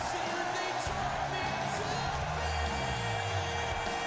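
A dense arena crowd roars and cheers continuously in WWE 2K17 at Full Sail Arena, a steady wall of noise with a commentator talking over it.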